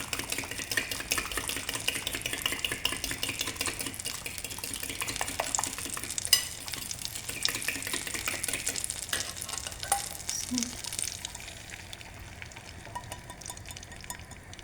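Eggs sizzle and crackle in egg butter in a pan, a soft continuous frying hiss with occasional stirring scrapes, close and fairly quiet.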